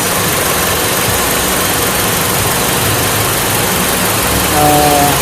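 A car engine idles steadily at low revs with headlights, fan and radio switched on, giving a loud, continuous close-up rumble that holds even throughout.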